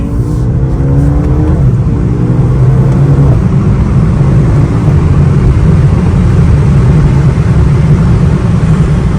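A 2021 Mercedes-AMG A35 drives through city streets at night, its engine a steady, loud low drone from inside the cabin that swells slightly early on as it accelerates, then holds an even rumble throughout.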